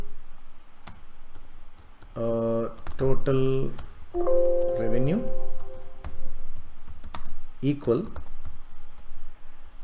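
Quick, light keyboard taps click in short runs, partly under someone speaking close by.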